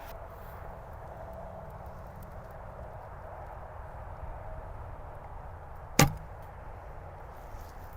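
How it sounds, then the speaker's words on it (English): A single sharp snap of a traditional bow's released bowstring and arrow, stump shooting outdoors, standing out once against steady outdoor background noise. "One of the great joys of traditional archery is stump shooting."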